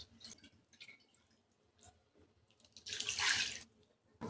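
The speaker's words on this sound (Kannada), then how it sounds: "ನಿಮಗೆ ನೀರು ಎಷ್ಟು ಬೇಕೋ ನೋಡ್ಕೊಂಡು ಹಾಕ್ಕೊಳ್ರಿ." Water poured into a pot of moringa dal with lentils, a soft splashing burst of about a second near the end, following quiet kitchen sounds.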